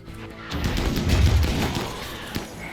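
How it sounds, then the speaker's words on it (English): A grenade blast thumps heavily in RimWorld, followed by a dense rattle of gunfire and debris noise that stays loud to the end, with a sharper crack near the close. "Let me throw a grenade."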